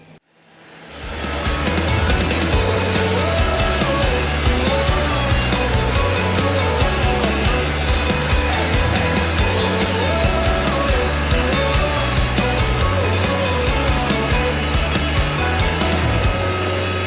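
A sawmill cuts a log into a squared beam, a loud continuous whine and rumble of the saw that builds up within the first second and then holds steady and dense for the rest of the cut.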